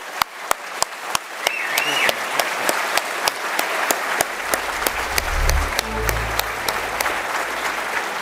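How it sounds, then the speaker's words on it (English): Crowd applause in a gaming expo auditorium after a live game demonstration, a broad sustained clapping wash, with regular sharp thumps cutting through and a low rumble building midway. "So big round of applause, please"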